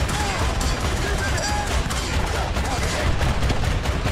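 Two Sergeant York anti-aircraft guns firing in War Thunder, a dense continuous loud barrage of rapid shots with no pause, with voices talking over it.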